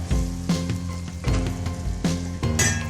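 Spice paste being stirred into hot mustard oil around hilsa fish for a spicy tel jhal, giving a steady close sizzle broken by several sharp clinks and scrapes of a utensil against the pan.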